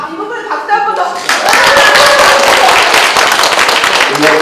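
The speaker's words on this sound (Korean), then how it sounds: "이 부분에 박수 한번 더." Applause from a small seminar audience at a functional medicine class, a burst of clapping rising after a spoken line and holding steadily loud, with a voice talking over it.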